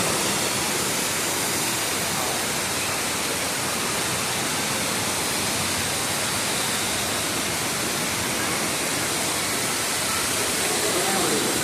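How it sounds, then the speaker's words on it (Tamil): Kutralam waterfall pours in a dense, unbroken roar of rushing water that stays steady and loud throughout, with no clear talking over it. "குற்றாலம் ஃபால்ஸ்."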